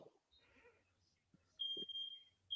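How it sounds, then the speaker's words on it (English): A smoke detector sounds indoors with a sharp, high electronic beep that sustains for about a second, then starts again at the end, while faint voices murmur in the background. "Y'all smoke detector going"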